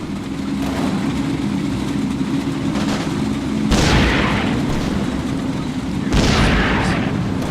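Heavy booms from an 88mm gun firing high-explosive rounds in a WWII game cut in over a constant low engine rumble, with two loud blasts a few seconds apart.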